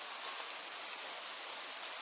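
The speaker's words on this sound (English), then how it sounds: "Now it is an IP65 waterproof testing, simulating heavy rain and outdoor exposure." Water sprays onto a powered P2.6 rental LED screen during an IP65 waterproof test, a steady hiss like heavy rain, faint and even, with a single small spatter near the end.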